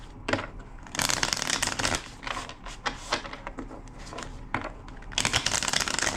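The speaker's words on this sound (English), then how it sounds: "Two more shuffles." Tarot cards being shuffled in brisk riffling bursts, close up, with a pause in the middle before a final flurry; no voices.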